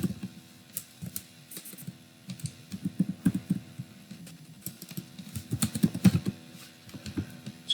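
Steady typing of HTML code on a computer keyboard, a dense run of irregular clacking keystrokes close to the microphone, continuing without pause over a low background hum.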